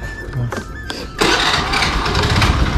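A superbike motorcycle engine is started: a few short cranking bursts, then the engine catches and runs loudly at close range with a rough, steady roar.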